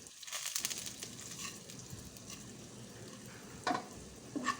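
Cloves, peppercorns and coriander seeds dry roast in a pan with a soft, steady crackle and rustle, broken by a few brief louder scrapes and stirs near the end. No voices are heard.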